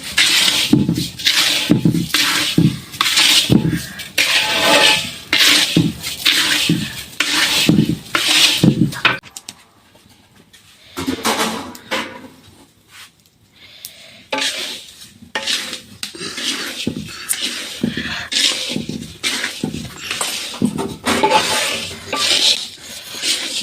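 Rice being fried and stirred in a home kitchen pot, with a spoon scraping and knocking against the metal in steady repeated strokes. The stirring pauses briefly midway, then resumes close and loud.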